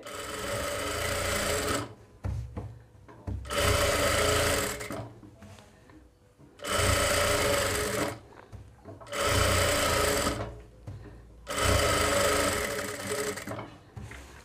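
A sewing machine stitches a fall onto a saree in five loud, close bursts of fast whirring, each a couple of seconds long, separated by short quiet gaps.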